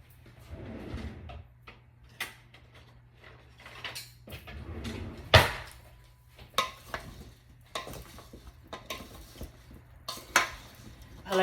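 Raw chicken kabob pieces are mixed with salt by hand in a bowl, giving soft, intermittent clicks and knocks against the bowl under low room hum, with no talking.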